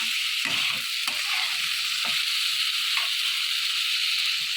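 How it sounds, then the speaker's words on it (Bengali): Potatoes and cauliflower with poppy seed paste being stirred in a pan, a steady close sizzle with repeated scraping strokes of the spoon, no talking. "আবারও আমি নেড়ে দেবো।"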